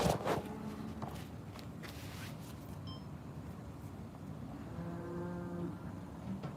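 Cattle moo outside a slaughterhouse, low drawn-out calls rising near the end of a few seconds, heard at a distance over steady outdoor background noise.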